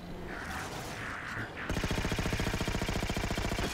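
Rapid automatic gunfire from a weapon in the Halo 4 video game, an evenly pulsing burst that starts abruptly partway through and carries on loud and steady to the end, with no talk over it.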